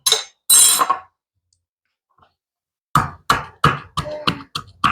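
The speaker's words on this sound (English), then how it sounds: "use my spoon, stir it a little bit" A spoon clinks against a glass jar holding homemade cough syrup ingredients, with a few bright knocks at the start, a pause, then a quick run of rhythmic taps and scrapes, close and crisp.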